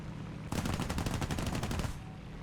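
Rapid burst of aircraft machine-gun fire in a flight combat video game, aimed at a slow-moving A7 fighter, roughly a second and a half of dense, evenly spaced shots, loud and close, with no talk over it.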